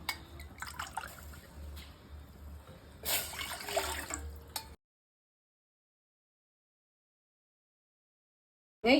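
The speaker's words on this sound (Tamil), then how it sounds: "எட்டு கிளாஸ் தண்ணி ஊத்தி வச்சிருக்கிறேன்" Water splashes and gurgles steadily into a cooking pot for several seconds with a louder gush near the end, then abrupt silence.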